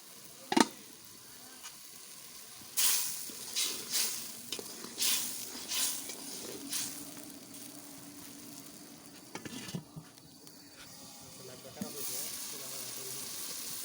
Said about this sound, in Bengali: এটা আবার কতক্ষণ কষিয়ে নেব।